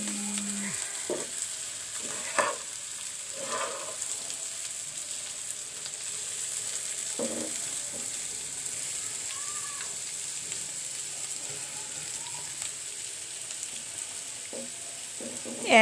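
Bitter gourd and potato stir-fried in a pan without turmeric water, a continuous moderate sizzle broken by several sharp spatula scrapes and clacks against the pan.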